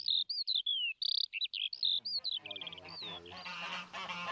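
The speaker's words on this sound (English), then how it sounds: "we've got geese serenading us on this very sunny morning" Geese honk repeatedly on a sunny morning in the countryside, loud and close, a run of sharp calls that gives way to overlapping honks from the wider flock and a steady background chorus.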